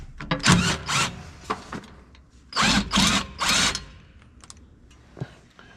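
An impact wrench on a 6-inch extension removes screws from the throat of a Gleaner R52 combine, several short whirring bursts with pauses between them, close by and fairly quiet.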